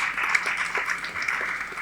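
Audience applause for a quiz team at a regional college quiz round, steady dense clapping throughout with no pauses.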